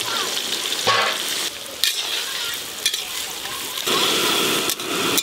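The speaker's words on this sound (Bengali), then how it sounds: "পেঁয়াজগুলো একটু ভালো করে ভেজে নেবো লাল লাল করে।" Chopped onions fry in a pan for a Bengali dish, sizzling loudly and steadily with scraping stirs and clatters of the spatula close by.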